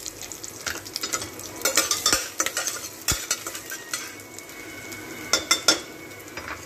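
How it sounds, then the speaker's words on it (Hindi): Garlic and whole spices sizzle and fry in a pan with repeated metal stirring clinks and scrapes, steady and close, with no talk. "जैसे ही ये खड़े मसाले हो जाए हमें इसमें गार्लिक डालना है"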